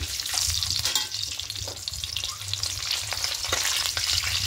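Eggs fry in hot oil in a pan, a steady close sizzle with crackling spatters and occasional scrapes running throughout without a break.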